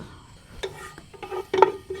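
Cardamom, cinnamon and cloves hit hot coconut oil in a pan for fish biryani, giving a soft sizzle with a few quick stirring scrapes and clinks close by over about two seconds.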